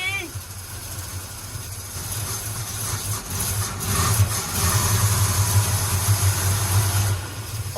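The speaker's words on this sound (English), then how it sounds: "Almost idling on its own after 20 years, just like that." A 1962 Chevrolet pickup engine, sidelined for 20 years, idles roughly on its own with a steady low rumble that swells slightly in the second half, close by, with background noise over it.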